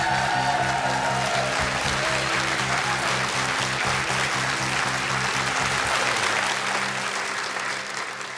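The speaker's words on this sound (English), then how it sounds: "Big round of applause for that." Sustained applause from a studio audience, steady and dense clapping that carries on for several seconds before tapering off slightly near the end.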